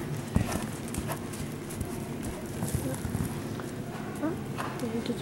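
Horse hooves clip-clop at a steady walking rhythm, moderately close, with people chatting softly over them throughout.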